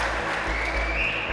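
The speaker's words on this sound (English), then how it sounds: "they deserve a big round of applause for it as well" An audience at a Dundalk FC season preview night applauds in a steady, continuous burst of clapping, moderately loud in a room with a low rumble underneath.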